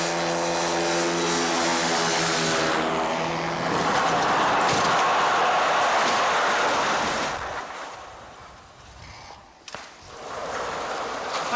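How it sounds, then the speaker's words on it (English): A motorized hang glider ultralight aircraft at Perry Airport in 1982 drones with a loud, buzzing engine tone that rises, holds steady, then fades away, with rushing wind noise. "The motorized hang glider, which Ackerman keeps in his hangar at the Perry Airport, is called an ultralight."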